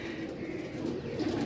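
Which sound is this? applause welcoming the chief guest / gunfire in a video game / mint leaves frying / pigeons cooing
pigeons cooing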